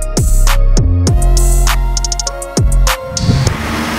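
A VW Golf R fitted with a hybrid turbocharger revs hard and close, the engine climbing in repeated loud sweeps through the gears with brief drops between pulls.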